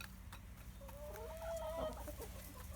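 Chickens at a farm animal refuge cluck softly in a steady background flock, with one drawn-out, rising call standing out near the middle; no one speaks.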